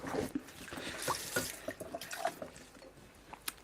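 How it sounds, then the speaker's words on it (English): Tap water runs briefly as cocktail tools are rinsed in a sink, a soft splashing wash that fades out into quiet before a sharp knock at the end. "Just going to quickly wash this down."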